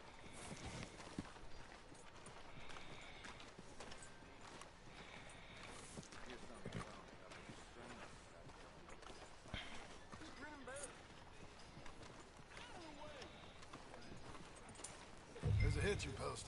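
Horse hooves clip-clop at a steady walking pace in Red Dead Redemption 2, soft and moderately close, running under game music and ambient sound with a brief louder thump near the end.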